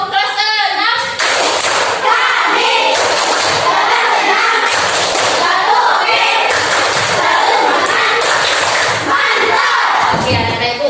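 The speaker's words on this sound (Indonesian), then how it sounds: "tepuk kelas ke-6." A sixth-grade class claps in unison in a classroom, sharp rhythmic bursts of many hands in repeated patterned groups, mixed with children's voices calling out.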